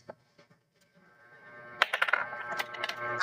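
Plastic dice tumbling and clattering across a board during a toddler's counting board game, a quick burst of rattling clicks after a quiet start, close and fairly loud.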